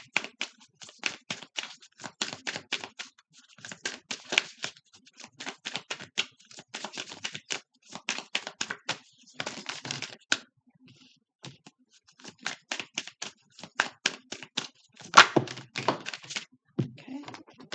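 Oracle cards are shuffled repeatedly in rapid riffling bursts of light clicks and taps, pausing briefly between rounds, close up with no talking.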